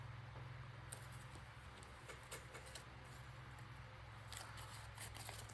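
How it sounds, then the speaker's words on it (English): Scissors snip through a paper pad cover page in a few quick bursts of crisp cutting, close and clear over a low steady hum. "I don't know if this is wise to just cut it without,"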